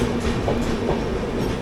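The Bhubaneswar SMVT Humsafar Express rushes past close by, a loud, continuous roar of wheels and coaches with a faint clattering rhythm and no voices.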